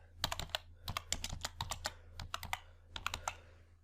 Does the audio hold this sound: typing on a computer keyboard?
yes